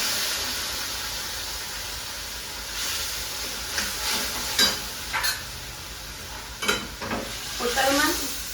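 Pav bhaji tempering sizzles steadily in a hot pan, a continuous frying hiss broken by several sharp clinks and scrapes of stirring, close and fairly loud.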